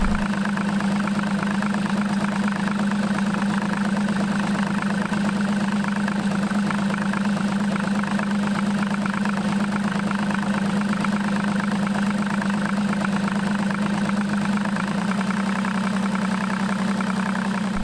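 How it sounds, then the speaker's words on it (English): Evinrude ETEC outboard motor idling steadily during a fuel injector test with one cylinder disabled, a loud continuous low engine drone with a slight change in tone near the end. "you should have noticed a drop in engine RPM and a change in the sound and running quality of the motor"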